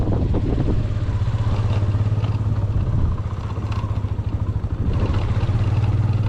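A warmed-up motorbike engine idles and runs steadily in Pakistan before riding off, a constant loud mid-pitched throb with a slight dip partway through and no talk.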